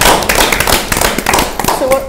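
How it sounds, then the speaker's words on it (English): Audience applause at a fashion show panel discussion, a short burst of brisk, dense clapping heard close and loud with some voices mixed in. "Should we give him a round of applause?"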